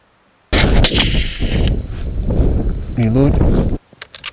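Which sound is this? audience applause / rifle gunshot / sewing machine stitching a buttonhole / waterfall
rifle gunshot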